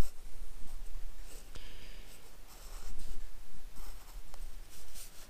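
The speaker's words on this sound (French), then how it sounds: "Alors, si je dessine ça" Pencil sketching on paper while planning a screw part with an 8 mm thread for a threading dial, heard as close, soft scratchy strokes in irregular bursts over steady background hiss, with no talking.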